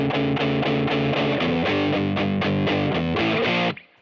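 Gibson Memphis ES-359 electric guitar playing a distorted rhythm part, a run of chunky strummed chords in steady repeated bursts, loud and close, cut off abruptly at the end.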